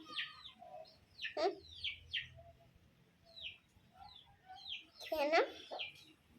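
Small birds chirp and peep in short bursts, soft and close, with quiet gaps between calls, like young chicks calling.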